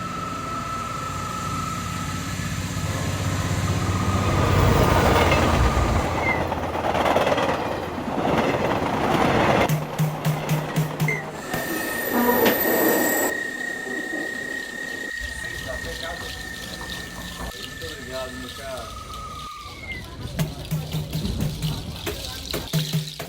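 A passenger train runs along the rails on a mountain route in Brazil, with a sustained rumbling roll, a long high metallic wheel squeal, and clattering passes close by and loud throughout.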